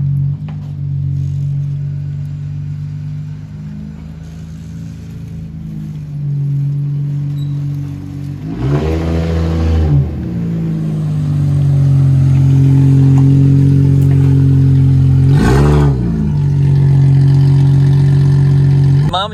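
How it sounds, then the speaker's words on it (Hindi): A Toyota 2GR-engined drift car approaches from a distance, its engine note droning and swelling as it nears, with two sharp revving bursts. The engine grows louder toward the end, and someone talks over it throughout. "ये आप लोग देख सकते हैं गाड़ी आपको नजर नहीं आ रही लेकिन आवाज आ रही है"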